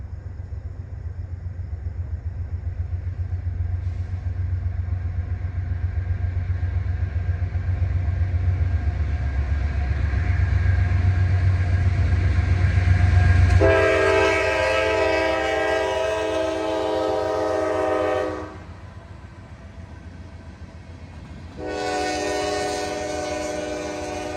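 A GE Evolution (Gevo) locomotive rumbles low and close at a crossing, then its horn blasts loud in two long sounds separated by a brief gap.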